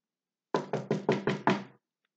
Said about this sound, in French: Sa mère tape à la porte.